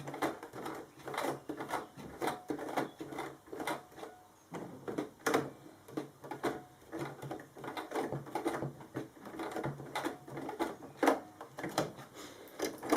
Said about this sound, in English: I always manually hand crank this last piece